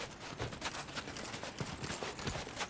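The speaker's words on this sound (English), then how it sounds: "when those horses attack, you just have to turn and face them and fight" Horse hooves clip-clop in the video game Dark Souls 2, a quiet, steady rhythmic beat of hoof strikes continuing throughout without talk.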